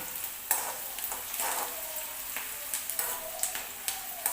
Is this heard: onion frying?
yes